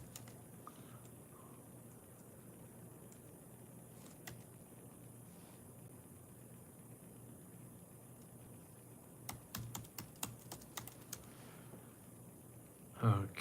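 Typing on a computer keyboard, quiet at first, then a quick burst of close, crisp keystrokes near the end over low room hiss.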